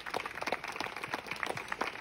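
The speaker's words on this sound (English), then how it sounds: "Big round of applause." An audience at a museum-related gathering claps, a moderate patter of hands that stays fairly even, with no voices over it.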